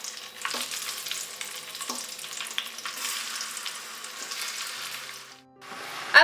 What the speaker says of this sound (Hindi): अब चिकन को फ्राई कर लेंगे।